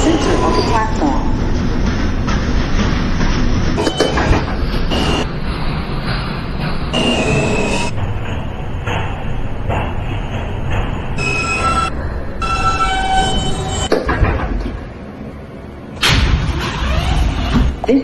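A Manhattan-bound New York subway J local train rumbles loudly and steadily along the track, with rattling, clanks and door sounds, and recorded announcements playing over the noise.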